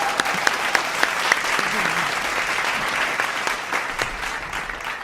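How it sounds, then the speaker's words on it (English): An audience at an outdoor eighth grade promotion ceremony breaks into steady applause, a dense wash of clapping with a few sharp, near claps standing out and faint voices underneath. "Give them a round of applause."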